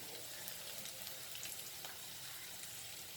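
Beef fries with coriander and cumin powder in a faint, even sizzle that holds steady throughout.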